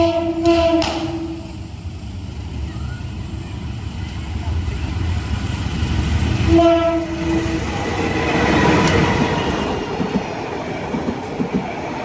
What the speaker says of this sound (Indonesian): Kereta api Kamandaka barusan